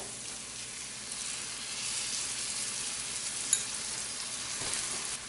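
Ground tomato sizzles steadily in hot oil in a pan for lauki kofta curry, a close, continuous frying hiss with light stirring scrapes and one brief clink.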